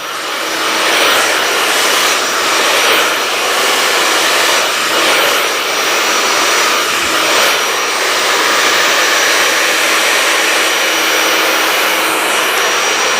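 A hair blow dryer runs continuously during a straight blow-dry, a loud broad airy whoosh with slight rises and dips as it is angled and moved through the hair.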